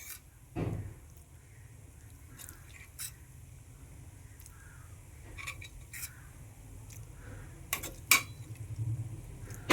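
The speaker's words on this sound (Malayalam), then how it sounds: "മസാല ചേർത്ത് നമുക്ക് ഈ ചോറൊക്കെ ഒന്ന് നന്നായി മിക്സ് ചെയ്തെടുക്കാം കേട്ടോ." Cooked rice and masala for prawn biryani being mixed in a vessel, with soft scraping and occasional light metallic clinks of a spoon against the pot, faint and close.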